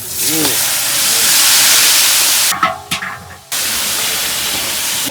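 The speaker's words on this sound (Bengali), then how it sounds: "গোটা জিরে তেলের উপর দিয়ে ভাজে দেবে" Whole cumin seeds frying in hot oil give a loud, steady hiss and sizzle that runs most of the way through and stops briefly near the end, with a voice heard only faintly.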